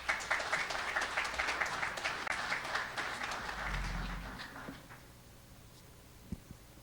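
An audience at a student pitch competition breaks into applause, a broad wash of clapping that holds steady for several seconds and then fades out to near silence, with a faint thump near the end.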